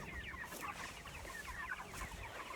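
Chickens clucking steadily inside a chicken tractor on pasture, several birds murmuring together at close range with soft overlapping calls and no talking.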